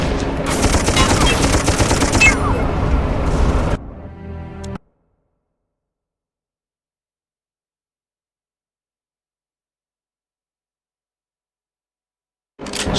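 Rapid bursts of gunfire from the World War I shooter game Darkest of Days, a loud dense fusillade for about four seconds that fades into a brief tail, then near silence until a loud burst returns at the very end.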